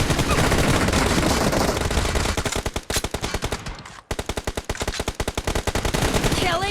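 Automatic gunfire from AKM and Groza rifles in the mobile game BGMI: loud, rapid bursts of shots, a dense stream at first, then a brief gap and another long, evenly spaced rattling burst.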